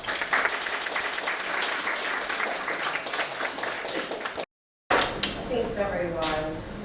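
An audience claps warmly to welcome a guest lecturer, Dr. Shellie Dolan, at a lunchtime history talk. The dense, steady applause runs for about four and a half seconds, cuts to a brief silence, then resumes with lighter clapping.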